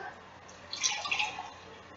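A milk mixture poured from a spouted bowl onto a set gelatin layer for rainbow jello squares, a soft, faint liquid trickle and splash that swells briefly in the middle of a quiet room.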